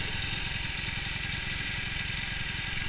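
A motorcycle engine idles close by during carburettor tuning, a loud, continuous mid-pitched throb with rapid even pulses and a steady hum, with no talking.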